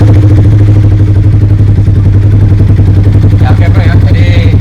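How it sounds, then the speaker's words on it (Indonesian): A stock Yamaha R15 sport motorcycle engine runs steadily up close, a loud continuous low drone with a rapid mechanical pulse, and a voice briefly speaks over it near the end. "jadi ini standarnya mesinnya R15, suaranya seperti ini udah termasuk paling halus nih ya."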